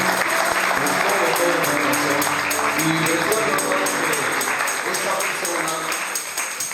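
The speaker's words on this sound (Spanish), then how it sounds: "si puede dar ese aplauso con todo su corazón" A church congregation applauds in steady, dense, sustained clapping throughout, loud and close, with no clear voices over it.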